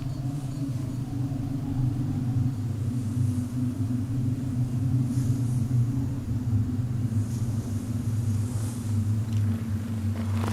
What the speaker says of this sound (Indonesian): Ada badai datang.